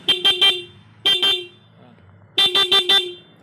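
Car horn sounding loud and close during a relay wiring test, in three bursts of short honks: three quick toots, two more, then four, with quiet pauses between.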